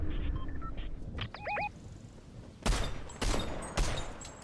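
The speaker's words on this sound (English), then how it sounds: "Why am I shooting with the assault rifle?" Assault rifle fire in Fortnite: several short, sharp bursts of gunfire ring out in the second half, preceded by quieter game chirps and tones.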